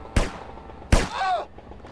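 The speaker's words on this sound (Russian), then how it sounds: "Стрельба по таксисту." Two loud gunshots ring out in the SAMP (San Andreas Multiplayer) video game as a taxi driver is fired upon, each a sharp broadband crack with a short decaying tail, spaced under a second apart.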